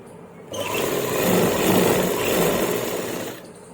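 A sewing machine stitches a belt onto a salwar in one steady run of rapid mechanical whirring and clatter, close and rising slightly before stopping, with no talk over it.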